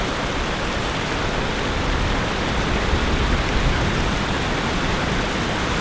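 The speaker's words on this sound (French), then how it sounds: "ces bruits de cascade, on s'y habitue jamais" A waterfall roars steadily at a catfish fishing spot, a loud, unbroken wash of rushing water with no pauses and no voices.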